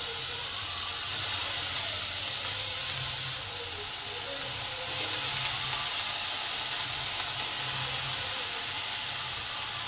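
Ridge gourd, freshly washed, hits a pan of fried onions and sizzles with a broad, steady steamy hiss, fairly loud and unbroken, over a low rumbling hum.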